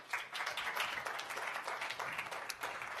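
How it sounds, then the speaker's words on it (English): Applause from the audience at a market research conference session, a steady spread of many hands clapping at moderate level for about three seconds, with no talk over it. "big round of applause for yourselves"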